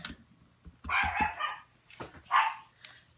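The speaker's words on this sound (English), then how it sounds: "Sorry, that's my dog." A dog barks several times nearby in short, sharp bursts separated by brief pauses, with a low hum underneath.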